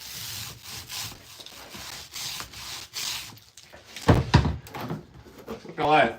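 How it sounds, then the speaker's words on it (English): Glue is spread over a skateboard wood veneer with repeated rubbing, scraping strokes in a steady rhythm, close up, and a few heavier knocks toward the end. A person talks over part of it. "Gluing up this last piece of veneer and giving it full coverage."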